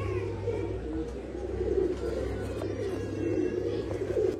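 Pigeons for sale in Bangalore coo steadily in the background, a low, continuous throaty murmur from several birds, with some faint voices mixed in.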